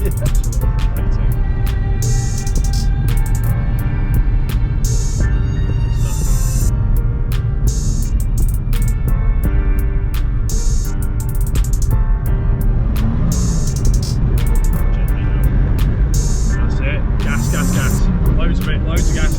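A Nissan 350Z being driven while drifting, its engine droning and rising in loud sustained revs with throbbing pitch shifts, a voice talking over it much of the time.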